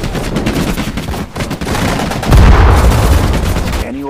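Rapid gunfire from Sudden Strike 4 units in a Pacific War battle on Saipan rattles in dense, continuous bursts, loud and close, with a heavier booming stretch partway through.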